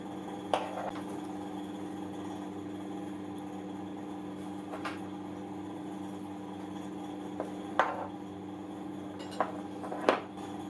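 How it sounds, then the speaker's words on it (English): A retaining circlip on a tractor clutch is tapped home with a metal pin punch, several sharp, sparse metallic taps spread over a quiet background with a steady low hum. "Finally, the retaining circlip is fitted and tapped home using a pin punch."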